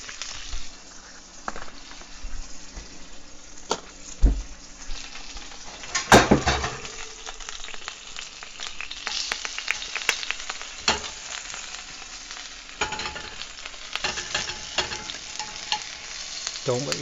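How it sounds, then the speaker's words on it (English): Garlic sizzles steadily in a hot pan in a home kitchen, with a utensil scraping and clinking against the pan as it is stirred, the frying hiss continuous and close without talk. "I am just going to drop some of that garlic right in there."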